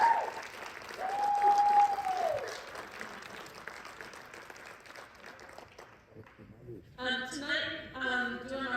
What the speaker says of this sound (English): so we can give everybody a round of applause